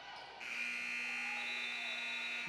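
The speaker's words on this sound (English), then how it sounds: "and the buzzer sounds" At the end of the first half of a women's college basketball game, the arena buzzer blares as a steady, sustained electronic tone that starts abruptly and holds for about two seconds, with faint crowd noise beneath.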